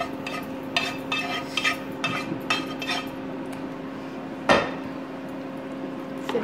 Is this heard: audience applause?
no